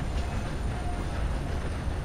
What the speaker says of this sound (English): we gotta get off this train somewhere